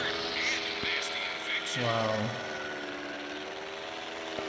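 Engine drone of a small aircraft flying in GTA San Andreas, a constant mid-loud hum with a brief rising tonal whine partway through, heard under someone talking.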